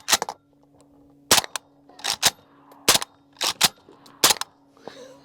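Suppressed subsonic rifle shots, 300 Blackout or 7.62x39 from a straight-pull bolt action, crack out in seven sharp, evenly spaced reports over a steady low hum, loud and close with no talking.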